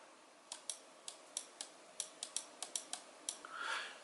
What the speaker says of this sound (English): So clicking on the mouse, hopefully you can see there.